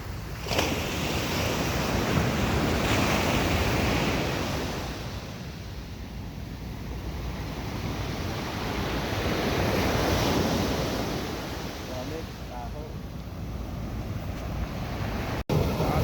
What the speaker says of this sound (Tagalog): lagabog ang alon